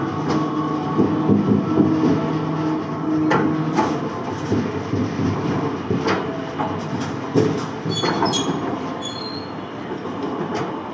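Class 19 steam locomotive on a turntable, a steady loud rolling rumble with metallic clatter and occasional squeals throughout, no voices.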